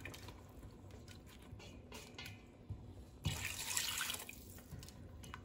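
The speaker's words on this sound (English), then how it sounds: "We're gonna add just enough water to cover the chicken." Quiet, continuous trickle of water poured into a cooking pot over chicken, with a louder pouring surge partway through, then settling back to a soft splashing flow.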